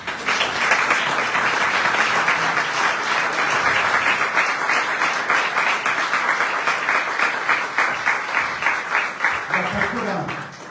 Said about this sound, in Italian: facciamo un applauso a Michela Murgia